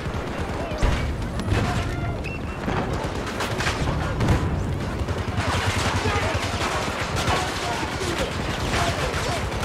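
Rapid gunfire and crackling shots in a Battlefield 2042 firefight, including pistol fire amid a dense barrage of bursts, loud and continuous, with voices talking over it.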